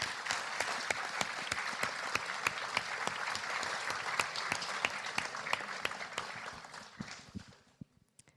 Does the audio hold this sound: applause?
yes